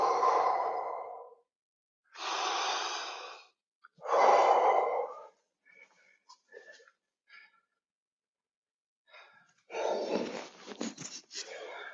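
Deep, audible breaths drawn and released in a steady sequence during a Chayon Ryu martial arts class, with long inhales and exhales separated by brief pauses and a few faint sounds between them.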